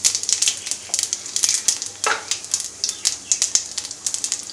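Cumin seeds and mustard seeds sizzle and pop in hot oil, a close, steady frying hiss broken by quick rhythmic crackles and spits, with no talking over it.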